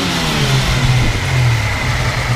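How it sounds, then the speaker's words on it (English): A 1986 Ford Mustang GT with its 5.0 V8 and five-speed revs steadily up close, a loud, throaty engine drone holding high and continuous with no other sounds. "Go ahead and rev it up a little bit."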